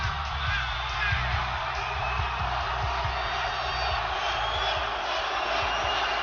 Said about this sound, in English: Wow, great crowd, huh?